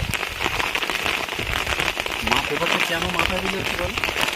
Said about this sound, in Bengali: প্রচণ্ড বৃষ্টি হচ্ছে কিন্তু এখনো মেঘ করে আছে